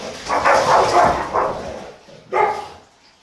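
Several loud, close dog barks in a quick burst, then a short pause and one more sharp bark, all heard indoors with no talking over them.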